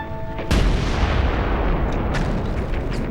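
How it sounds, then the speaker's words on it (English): A sudden deep First World War explosion booms and rolls on as a sustained rumbling roar, with a second burst of crackling later, loud and close. "Then came the frightful explosion."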